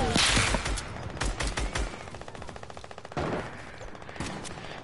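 Gunfire from players shooting in an online video game, rapid bursts of automatic fire with a quick staccato rhythm, loud and close, followed by further volleys.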